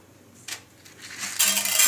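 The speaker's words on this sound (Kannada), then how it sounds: "ಈಗ ಉದ್ದಿನಬೇಳೆ, ಕಡಲೆಬೇಳೆ ಆ್ಯಡ್ ಮಾಡ್ಕೊತೀನಿ ನಾನು." Urad dal and chana dal tipped into a pan of hot oil for a palya, a sprinkle of light clinks and rattles building into a soft sizzle and hiss near the end, close by with no voices.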